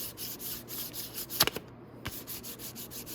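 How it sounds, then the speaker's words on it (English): A motorcycle chopper part, from a Venom 250cc Villain restoration, is hand-sanded across its top surface with quick, soft rhythmic rubbing strokes, close and fairly quiet, with a couple of sharper scrapes midway. "give it a quick sand over the top like this"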